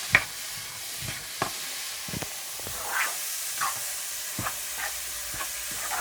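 Carrot pickle cooking in a pan is stirred, with a steady soft sizzle and hiss underneath and a series of scraping, clinking stirs spaced irregularly across the moment, fairly quiet and close.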